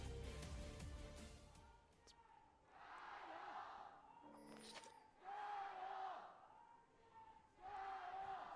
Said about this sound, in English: You can hear the RNG crowd getting louder and louder.